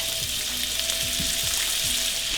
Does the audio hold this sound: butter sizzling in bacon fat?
yes